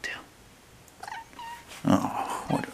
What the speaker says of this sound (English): Oh, what a meow.